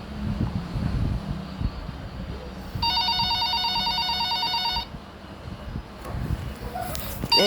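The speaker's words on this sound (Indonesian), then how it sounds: "Ada yang telepon guys, bentar." A telephone rings in a night-shift nurse video game, one steady electronic ring lasting about two seconds over a background hiss, with a voice talking before and after.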